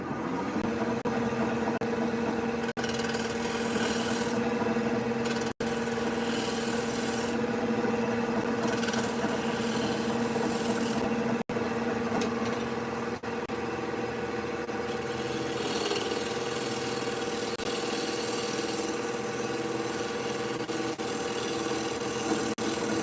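A gouge taking a planing cut on a wood bowl spinning on a lathe, a continuous rasping scrape over the steady motor hum with a few sharp clicks and breaks in contact.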